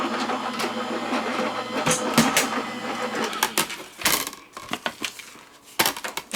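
A die-cutting machine presses craft dies and a metal shim through its plates, giving a close, loud mechanical grinding hum followed by irregular clicks and clunks as the plates pass.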